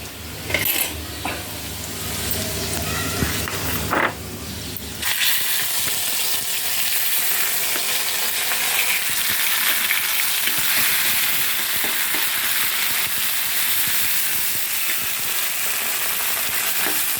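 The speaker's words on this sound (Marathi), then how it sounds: "वाटण चांगलं भाजून घेणार आहोत" A spice paste (vatan) fries in oil in a pan, giving a dense, continuous sizzle. It follows a few seconds of clattering and stirring at the start.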